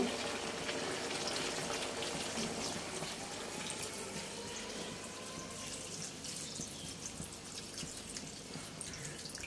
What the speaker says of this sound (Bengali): এবারে আমি ঝোলের পানি দিয়ে দিব